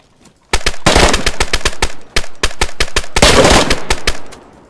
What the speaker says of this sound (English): I'm getting shot at by a bunch of people right now, Joey.